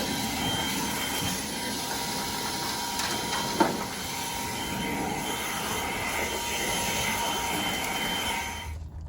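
A compressor or leaf blower blasts air steadily through the engine bay of a 1969 Chevy C10, a continuous loud whooshing roar that holds for several seconds, with one brief knock partway through, before cutting off at the end.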